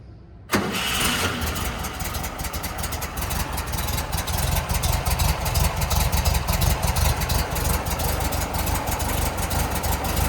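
A 1963 Volkswagen Type 2 bus engine cranks and fires at once on a cold start, then settles into a loud, steady, rumbling idle heard up close.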